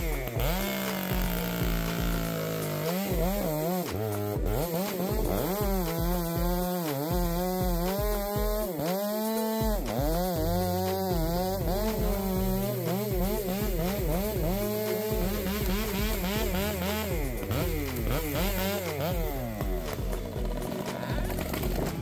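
A Stihl 462 chainsaw with a 20-inch bar cuts through fir tree trunks, its engine loud and continuous, the pitch rising and falling as it revs into the wood.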